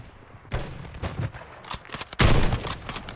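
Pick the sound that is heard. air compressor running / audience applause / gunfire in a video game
gunfire in a video game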